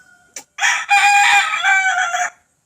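A single rooster crows loudly and close by, one long drawn-out call after a brief sharp note.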